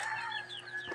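Pet chickens cluck close by in the dark early morning, with a brief rooster call among the short, overlapping clucks.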